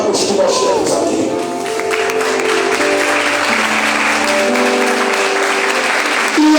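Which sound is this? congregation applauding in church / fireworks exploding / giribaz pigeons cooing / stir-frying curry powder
congregation applauding in church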